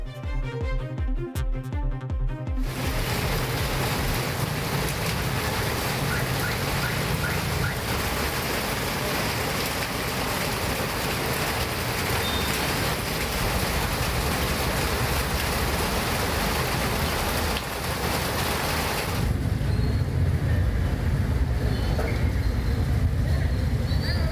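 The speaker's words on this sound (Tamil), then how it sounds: "பலத்த மழையால் சாலைகளில் மழைநீர் குளம் போல தேங்கியது" Heavy downpour during a cyclone in Tamil Nadu, drenching waterlogged, flooded roads: a dense, continuous roar of rain and water that fills the whole span, loud and unbroken, with a brief tonal passage at the start.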